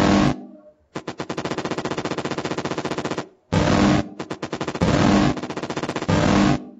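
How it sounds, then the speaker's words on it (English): Rapid automatic gunfire from an indie video game rattles in long bursts, broken by brief pauses between volleys, loud and close. "it's really slow and you have to shoot the enemies a lot to kill them"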